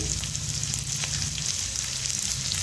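Garlic cloves and a knob of ginger fry in hot oil in a pan with a dense, continuous sizzle that stays loud and close for the whole stretch, and no voices come through.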